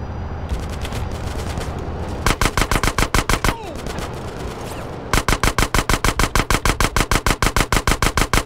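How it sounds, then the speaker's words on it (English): Enemy automatic gunfire in Grand Theft Auto San Andreas hammers in long, rapid, loud bursts, with a short lull between volleys and a faint voice underneath. "Dude shooting at us still."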